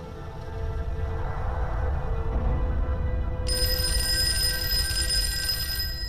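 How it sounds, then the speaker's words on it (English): A telephone rings with a steady electronic tone that starts partway through over a low background hum. "Phone rings again."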